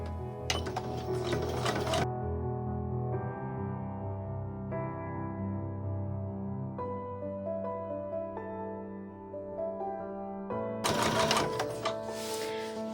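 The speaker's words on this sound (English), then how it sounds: "we're just going to sew down this first side until we get to the corner" A sewing machine stitches down the side of a bargello rainbow quilt, its motor humming steadily with a rapid needle rattle, bursts of louder clatter at the start and end framing the smoother run, with no talking.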